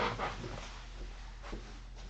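A dog whining at a door indoors, a few short soft whimpers and snuffles spaced across a couple of seconds over a low room hum.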